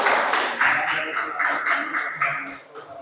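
Students in a classroom clap together in short rhythmic bursts, a moderately close group clapping in a brief patterned beat that trails off near the end.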